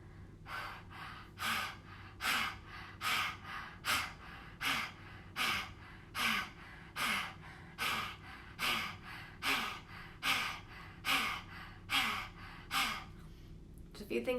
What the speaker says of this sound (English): I'm inhaling and exhaling through my mouth. I'm panting like a dog.